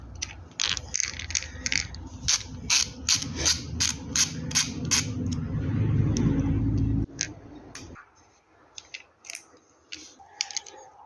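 Securing screws are worked loose on a seized rear brake cylinder of a Hillman Super Minx, with a run of close, sharp metallic ratcheting clicks, a grinding rumble midway and scattered lighter clicks afterward.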